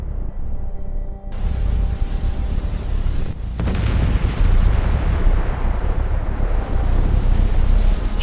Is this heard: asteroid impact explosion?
yes